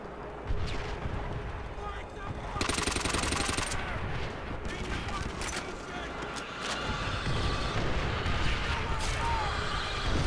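Heavy artillery fire in Call of Duty: World at War, with continuous loud booming blasts and rumbling explosions layered with gunfire, dense and sustained throughout, with a voice briefly under the barrage.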